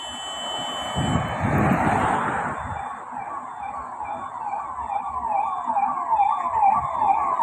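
A chief minister's convoy of vehicles passes on a road in Pune, its sirens wailing in a steady rising and falling cycle over the roar of heavy traffic. The sirens stay loud and close throughout, with no voices.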